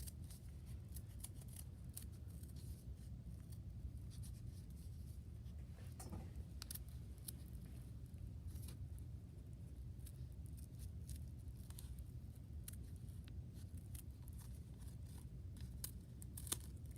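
Scissors snip paper in small, rapid cuts while a paper snowflake is cut out, quiet and close with no talking.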